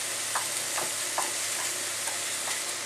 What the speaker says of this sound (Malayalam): എന്നിട്ട് ഇത് നന്നായിട്ടൊന്നിങ്ങനെ പൊടിച്ചു കൊടുക്കാം ചിക്കൻ